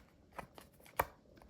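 A deck of A Riffle in Time tarot cards is shuffled, giving a few quick soft riffles and one sharper snap near the end, close and fairly quiet.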